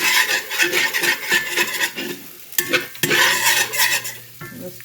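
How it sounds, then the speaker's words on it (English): Browning meat is stirred and scraped in a pan, with close, rhythmic scraping strokes over a steady sizzle and a few brief gaps between strokes. "Scraping up all the brown bits, which we can get more of when we add our beef broth."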